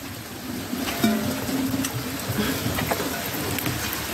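Steady rain falls on an outdoor homestead near a water drum, a soft continuous patter with scattered nearby drips and a few faint knocks and rustles.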